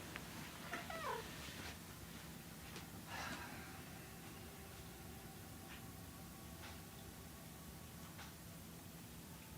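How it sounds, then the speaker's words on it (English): A wet cat that has just come back indoors gives a couple of short meows early on, close by, over steady background hiss and faint room noise. "Sorry, the cat's just come back in."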